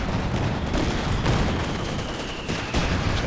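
Gunfire in a Company of Heroes 2 match, a dense continuous crackle of rifle and machine-gun shots with sharp reports standing out, loud and sustained.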